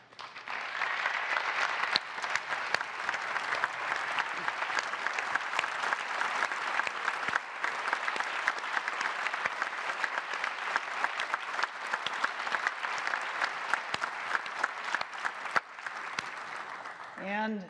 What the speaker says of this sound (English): if you guys could just stand up so we could give you a round of applause